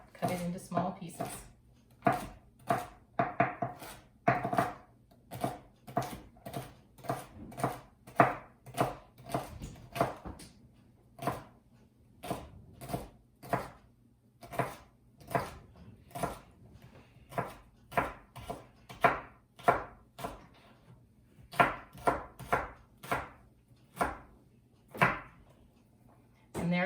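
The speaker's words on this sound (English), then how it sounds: "I can stack up push the celery together and cut it all in one cut" A kitchen knife chops a bundle of stacked celery stalks on a board, with dozens of sharp close cuts in steady, sometimes quickening runs and brief pauses between them.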